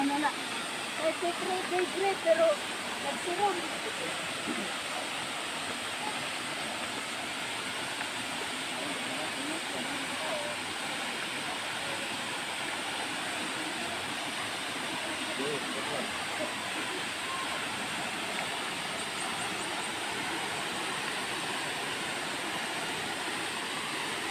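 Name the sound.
weak stream of water falling at a cold spring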